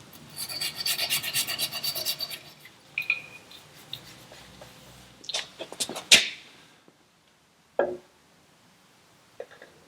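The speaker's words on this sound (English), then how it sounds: "I'm just going to clean up the prop shaft and the inside of the gear case housing where that O-ring" Scrubbing and rasping while cleaning an Evinrude 150 outboard's prop shaft and gear case housing: dense close rubbing at first, then scattered short scrapes and rubs with quiet gaps between.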